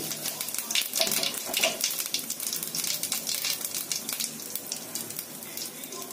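Cumin seeds tempering in a small amount of hot oil while cooking vegetables give a steady, fairly faint crackling sizzle throughout, with no voices over it.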